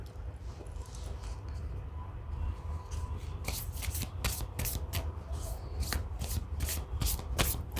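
Tarot cards being shuffled by hand, starting with soft rubbing and then a quick run of crisp riffling snaps, close up, with a faint voice in the background early on.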